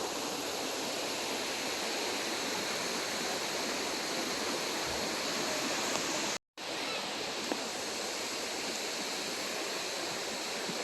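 Water pours at a lake's falls in a constant broadband rush that holds steady throughout, with one brief dropout near the middle.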